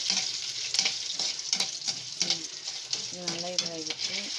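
Peppercorns fry and sizzle in a pan for millet pongal, with a steady broadband crackle, stirring scrapes and a brief voice partway through.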